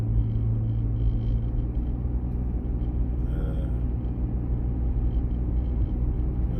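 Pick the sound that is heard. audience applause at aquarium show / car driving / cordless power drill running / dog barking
car driving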